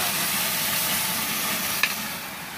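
Spice paste for nasi goreng fries in a pan with a continuous loud sizzle and hiss, close up, with one brief clack partway through and no talking.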